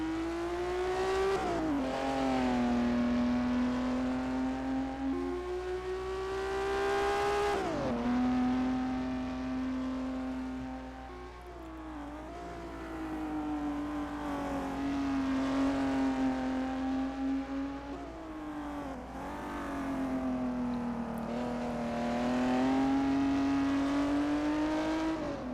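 A 1958 Formula 1 race car engine from a racing video game sings loud and steady, rising and falling through gear changes over a long stretch of held high revs without talk.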